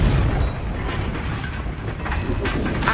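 A Confringo fire spell explodes in the Hogwarts Legacy video game, heard as a dense, rumbling boom that fills the whole moment and stays loud throughout.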